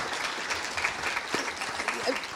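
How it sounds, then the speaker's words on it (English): An audience at a palliative care panel discussion applauds steadily, a dense wash of clapping hands that stays even and fairly loud throughout. "would you like to give Mary, please, a round of applause?"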